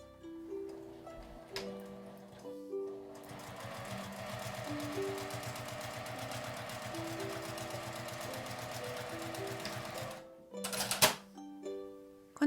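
A sewing machine runs steadily as it stitches the top edge of a fabric IC card pouch, a continuous rapid mechanical whir after a few short starts, then stopping with some handling clicks near the end.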